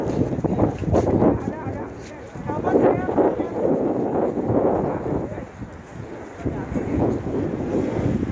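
Strong wind buffets the microphone in gusty roaring bursts, with faint talk mixed underneath.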